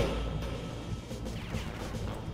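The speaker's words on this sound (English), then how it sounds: "Nice explosion, huh?" A heavy explosion in the video game Far Cry Classic, a dense low rumbling crash that sustains and rolls on without talk.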